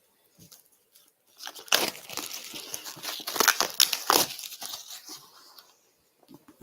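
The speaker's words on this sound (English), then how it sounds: "Let me just unwrap this gift quickly." Gift wrapping paper being torn and crinkled as a present is unwrapped, a few soft rustles leading into several seconds of close, busy tearing and crumpling that fades to quiet handling.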